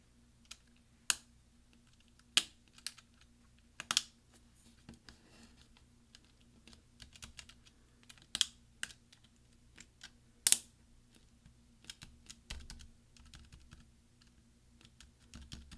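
Caps lock key being pressed back onto a mid-2010 13-inch MacBook Pro keyboard, giving several sharp, close plastic snaps and clicks scattered irregularly over a quiet background.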